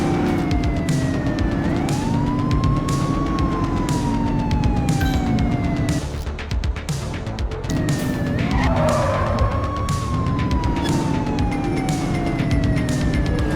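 Police car sirens wail and sweep up and down during a high-speed pursuit in The Precinct, loud and continuous with engine roar and brief tire skids, the siren dropping out for a moment midway before resuming.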